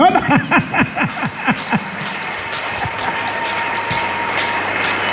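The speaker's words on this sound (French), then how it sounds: "On acclame." Crowd applause at a religious gathering, a burst of rhythmic clapping that swells in the first seconds and then settles into a steady, dense wash of clapping and cheering.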